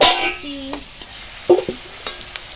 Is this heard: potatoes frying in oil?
yes